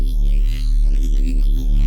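A heavy neurofunk bass patch from the Vital synth, layered with a second sine oscillator an octave or two down whose pitch is modulated to detune against the first, sustains loud and steady with a thick low drone and slowly shifting harmonics.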